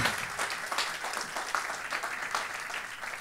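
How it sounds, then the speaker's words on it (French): A church congregation applauding, a brief burst of warm, fairly loud clapping from many hands that fades slightly toward the end. "Si vous voulez bien, on va l'acclamer, vraiment le bénir."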